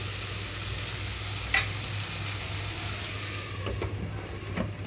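Tomatoes frying in a pan for an egg fry, lid being set on: a continuous close sizzle over a low steady hum, with a couple of brief knocks and scrapes.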